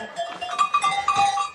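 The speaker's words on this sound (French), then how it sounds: "la chèvre" A goat on a Vosges mountain farm bleats in a wavering, nasal call, close and clear, with a faint cowbell-like clink and no talking.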